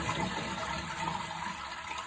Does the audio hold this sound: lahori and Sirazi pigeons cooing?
no